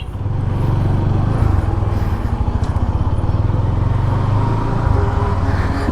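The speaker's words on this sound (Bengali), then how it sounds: "এত পরিমাণ জ্যাম।" Vehicles sit in a traffic jam of cars and motorcycles, close and loud, with a steady rumbling engine drone that stays constant throughout.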